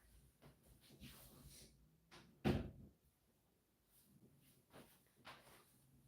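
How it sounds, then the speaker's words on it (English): Bedroom door pushed shut with one solid thud midway, preceded and followed by faint shuffling and rustling movement in a quiet room. "Let me shut my door real quick, and I'll be right back."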